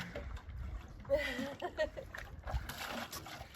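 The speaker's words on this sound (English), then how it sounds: "First time getting water from the lake" Water scooped and sloshing at a lake's edge, with soft splashes and trickling in short bursts, close by, under intermittent background talk.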